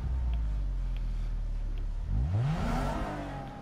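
A Toyota Crown luxury sedan's engine in Gran Turismo Sport rumbles at a deep steady idle, then surges into a sharp rising rev that peaks and fades, heard up close with no voices.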